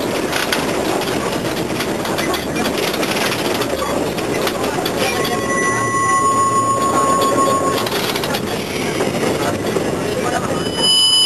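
A historic tram runs through Szczecin with a steady rolling rumble, rattling wheels and a few high squeals on the rails. It is heard from on board, and voices talk over it now and then.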